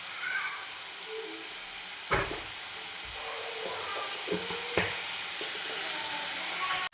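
Beef being stirred and fried with home-ground masala in a pan, a steady close sizzle with a few sharp spoon scrapes and knocks against the pan.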